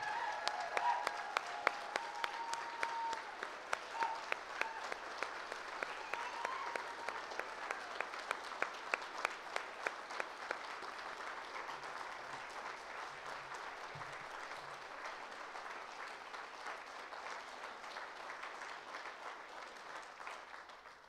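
Sustained applause from an audience at the Bram Stoker Awards 2014 horror writers' ceremony, dense steady clapping filling the room for about twenty seconds with a few sharper claps standing out early and faint murmuring beneath.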